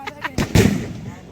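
Diwali firecrackers set off among friends outdoors, giving a few sharp pops followed by a louder, fuller boom, with voices nearby.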